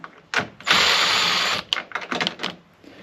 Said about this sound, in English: So now I got my 7mm. You don't need a nut driver, but it'll make it easier to take these out